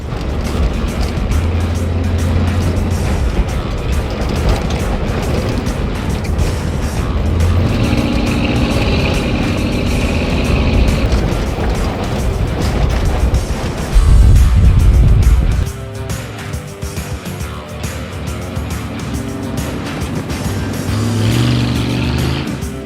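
A car with a suspected head gasket problem driven around behind a house, its engine running loud and close throughout with a steady roar and a louder surge partway through.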